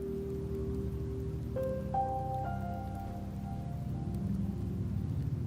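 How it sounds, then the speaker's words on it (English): Steady rain falls in the video game Wuthering Waves, a soft even hiss throughout with a few faint tonal game sounds layered over it. "The rains in Septimont never seem eager to leave this"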